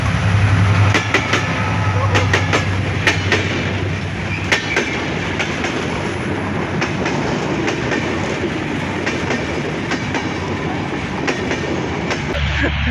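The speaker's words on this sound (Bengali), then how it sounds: "ওই যে দেখুন ট্রেন আসতেছে" A train rolls past on a railway line in Khulna or Jashore, close and loud, its wheels clattering in a steady rhythmic clack over the rails with a continuous rumble throughout and no talking.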